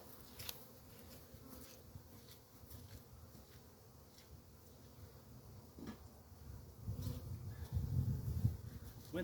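Honeybees buzzing around a hive during a swarm-trap colony transfer, a steady close drone with scattered thuds and knocks of equipment, growing louder toward the end, no speech.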